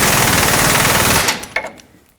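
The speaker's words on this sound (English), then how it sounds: "But I, of course, will snug them up with my air gun first to make sure that they do not move." Air impact gun snugging control arm bolts on a 2004-2008 Ford F-150 front suspension, a loud, close, rapid hammering burst lasting over a second, then stopping with a short final blip and fading clatter.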